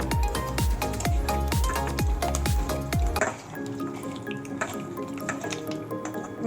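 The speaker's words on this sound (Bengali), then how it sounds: "দেবো এবার সরষের তেল, এবার এটা আমি ভালো করে মেখে নেব।" Koi fish mixed by hand with mustard oil and turmeric, wet squelching and sticky slaps in a quick regular rhythm, close up, then a softer, looser squishing with no voices.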